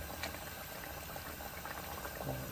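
Mutton curry gravy bubbling in an open pot on the stove, a soft steady simmer with faint popping bubbles, quiet and close, with no voices.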